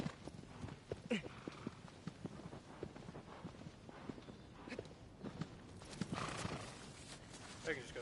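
A horse's hooves clip-clop in a brisk, uneven rhythm of sharp knocks, with other noise and possible voices mixed in around the steps.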